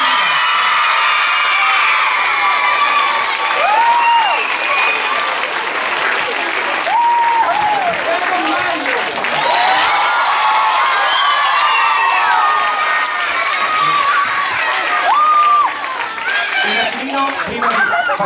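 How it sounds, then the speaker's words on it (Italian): Continuous loud applause from a school audience after a primary-school Aladdin performance, with children shouting and cheering over the clapping and a busy crowd murmur throughout. "Un applauso grandissimo anche per la nostra Esther."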